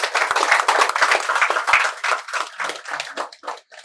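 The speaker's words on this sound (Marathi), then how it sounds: "त्यासाठी जोरदार टाळ्या व्हाव्यात" An audience at a home Ganpati decoration contest prize ceremony claps loudly, a burst of dense hand clapping that thins into scattered, separate claps before stopping.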